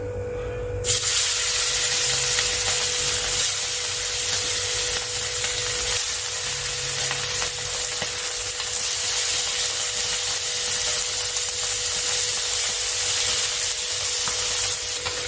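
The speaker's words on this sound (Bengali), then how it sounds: "এবারে আমি মাছগুলোকে ভেজে নিচ্ছি" Steady, loud sizzling and crackling of bata fish frying in oil, continuing evenly throughout with no talking.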